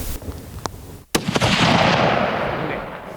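A single sharp crack of a hunting rifle rings out outdoors, followed by a long rolling echo that fades slowly over the surrounding terrain.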